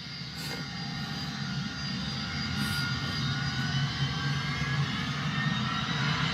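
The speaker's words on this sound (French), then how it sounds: "Avion décollé, bien sûr." An airplane takes off, its jet engines giving a steady, moderately loud roar that holds for several seconds with a constant broad rumble and whine.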